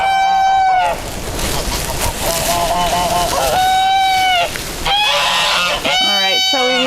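Geese honk loudly and repeatedly at close range, their calls overlapping with quacks from nearby ducks and chickens. A voice talks underneath the flock.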